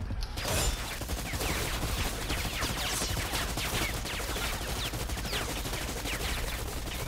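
Gunfire in the video game Predator Hunting Grounds: steady, dense automatic rifle fire with rapid repeated shots, loud and continuous, mixed with mechanical clatter.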